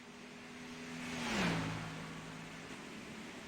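A race car at Michigan pulls away from its pit stop after taking four tires and fuel, the engine note swelling as it passes close by, then dropping in pitch and fading steadily as it heads back onto the track.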